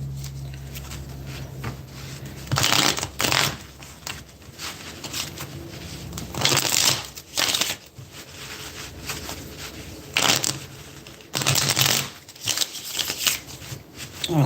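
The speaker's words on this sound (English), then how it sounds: "One more deck to shuffle." A deck of playing cards is shuffled by hand several times, with short bursts of riffling and flapping separated by quieter handling pauses, close to the microphone.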